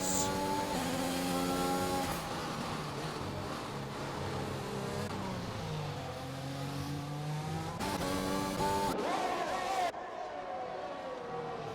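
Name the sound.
F1 race car engines in racing video game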